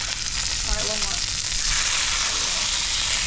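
Pieces of fresh-caught fish fry in a hot pan, giving a close, even sizzle that holds steady throughout, with no talking.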